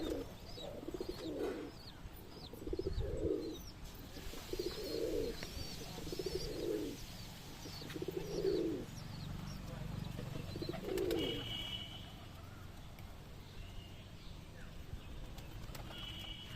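Pigeons in a home loft of high-flying birds give a series of soft, rhythmic coos, about eight low rolling calls spaced a second or two apart, fairly faint, with someone talking over them and light chirps in the background.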